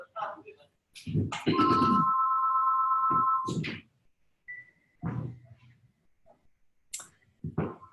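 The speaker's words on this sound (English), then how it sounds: "Hang on while I quiet that phone." A phone rings indoors with a long steady electronic tone lasting about two seconds, followed by a shorter faint beep, with clicks and handling noises around it as a person speaks at intervals.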